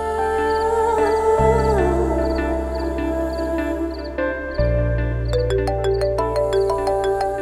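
A phone ringtone plays a repeating electronic melody for an incoming call in a home during a meal, loud and continuous throughout, with no talking over it.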